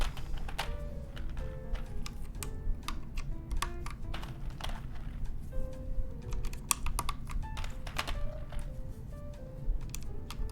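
Keycaps pressed onto a TMO50v2 mechanical keyboard during a build, giving a steady run of close, clicky plastic taps and thuds over a faint background hum.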